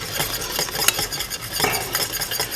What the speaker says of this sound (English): give it a good whisk with the whisk and get it moved in there until it thickens up